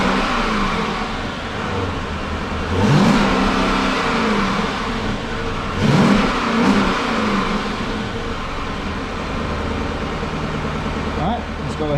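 A HEMI 5.7 V8 with stock mufflers fires up and idles with a muffled burble, then gives three sharp revs spaced several seconds apart, each rising and falling back to idle.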